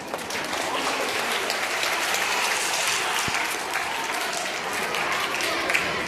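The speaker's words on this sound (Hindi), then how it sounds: "तालियां बजा दें" An audience claps steadily through an Independence Day school program, a dense, even wash of applause from a crowd that holds at a constant level from start to finish with no talking over it.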